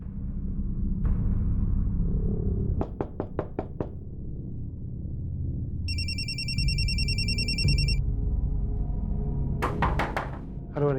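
A telephone rings briefly with an electronic trill during a blank call, preceded by a rapid series of sharp knocks and followed by more knocking, over a low background rumble.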